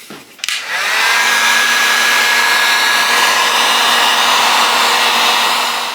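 A heat gun shrinks tubing over car wiring during a fan controller install on a 1980 Chevy Caprice. A click is followed by a steady, loud blowing whir that holds for about five seconds.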